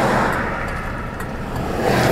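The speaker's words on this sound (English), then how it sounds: "A little bit of traffic." Road traffic rolls past near a college football stadium in Reno, Nevada: a steady, loud wash of tire and engine noise, with vehicles swelling slightly as they pass and no pauses.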